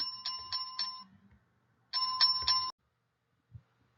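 Two short bursts of a bright, ringing notification bell sound effect, each lasting under a second with a pause between, followed by quiet.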